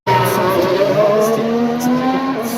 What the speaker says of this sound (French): on va essayer d'entendre de douces mélodies de moteur